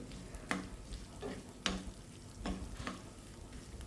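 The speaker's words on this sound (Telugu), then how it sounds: "చూడండి చక్కగా వేగుతుంది" Whole spices fry in oil in a pan for coconut chutney, a soft steady sizzle broken by a few sharp scraping taps of a spoon against the pan, close and alone.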